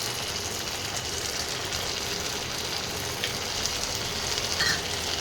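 Chopped onion sizzles steadily in hot oil in a pan while chana echor, a young jackfruit curry, is being cooked. The close, continuous frying hiss stays even throughout, with no talking.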